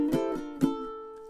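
Ukulele playing the first part of a flamenco rumba-inspired duet: a few plucked notes with two sharp attacks ringing over a sustained harmonic tone, close and clear, with no voices.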